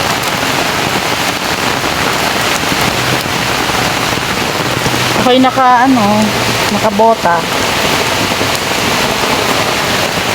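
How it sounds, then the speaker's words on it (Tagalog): Heavy rain pours down in a dense, constant hiss, loud and close, drumming without a break while a person talks briefly over it partway through. "Malakas po ang ulan."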